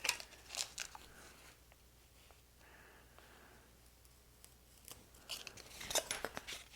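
A blade cutting the tip off a piece of balsa sheeting for a model aircraft wing, a Midwest Giles 202 build: a few quiet, crisp snips and crunches at the start and end, with a hush between.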